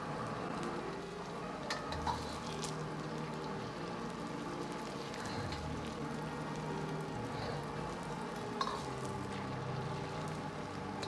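Egg frying in a hot oiled pan, nudged gently with a spoon, gives a steady soft sizzle with faint scraping and small pops, quiet and continuous with no talk.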